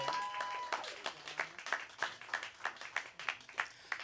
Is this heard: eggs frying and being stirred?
no